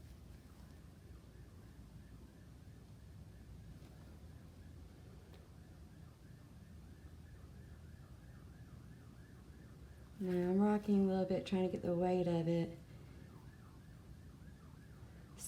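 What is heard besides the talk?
emergency vehicle sirens outside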